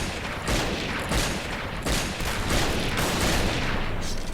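Sniper fire from a WA2000 rifle in the shooter game Point Blank, a steady wash of gunfire with repeated loud bursts roughly every half second, dense and close throughout.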